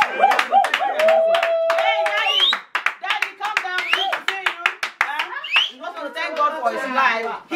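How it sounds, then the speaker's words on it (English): Guests clap for the husband at a family baby shower, rhythmic hand claps mixed with lively voices and children's chatter, close and busy throughout. "Please, everyone, let us give the husband a round of applause"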